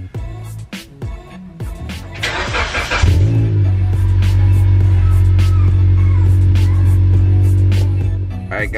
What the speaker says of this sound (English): My Lancer GTS 2009. Yeah. Let's start this baby up.